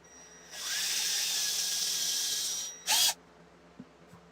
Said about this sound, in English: I'm just going to drill a hole in the center for our fuse